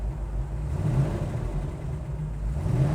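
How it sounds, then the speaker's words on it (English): A 1971 Chevrolet Nova sits idling, its engine giving a steady, even low rumble with a slight rhythmic lope and no revving. "the thing runs friggin' nice. Sitting here idling, no issues whatsoever"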